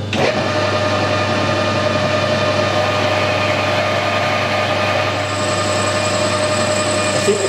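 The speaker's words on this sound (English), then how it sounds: "Drill it before I put the threads on." A machine drills a coolant pipe adapter before it is threaded, a steady loud mechanical whir with a constant hum, running evenly for several seconds with a slight change near the end, no speech.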